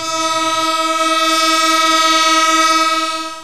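A train horn blares loud and close at Kamalapur railway station, a steady multi-tone blast holding for about three seconds before starting to fade, with rumble beneath at the outset.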